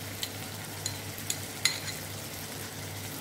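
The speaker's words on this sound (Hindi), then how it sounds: "अब हम इसे अच्छे से मिक्स करेंगे, इसे हमें अच्छे से भूनना है।" Goat liver fries in a pan for kaleji, a soft constant sizzle under a few light clinks and scrapes from stirring.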